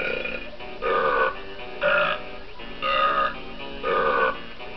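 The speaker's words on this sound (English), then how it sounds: "Ah, burping contest." Burping contest in the video game Donkey Kong 64, four loud cartoonish belches evenly spaced about a second apart over a low background hum.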